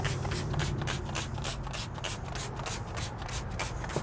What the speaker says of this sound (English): Spray it onto our door panels.